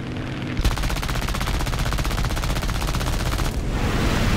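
Rapid aircraft machine gun fire from War Thunder air arcade combat rattles in a loud, continuous burst for about three seconds, set against a steady engine drone.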